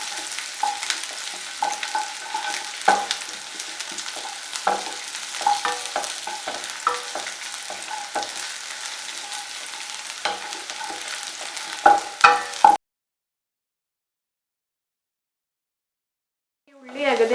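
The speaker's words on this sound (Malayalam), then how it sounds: "അപ്പോൾ ഞാനൊന്ന് ഉള്ളി സോട്ട് ചെയ്തെടുക്കട്ടെ." Onions sauté in a pan and are stirred, a soft sizzle under repeated scraping strokes of the spoon, close and fairly busy for about thirteen seconds before dropping into silence, with a faint sound returning at the very end.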